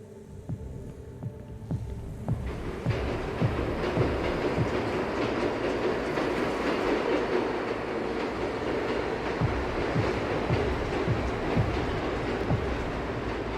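Subway train on the Brooklyn JMZ line, a rolling car with a steady rumble and rhythmic clickety-clack over rail joints, growing louder after a quieter opening and staying close and continuous to the end, with no voices.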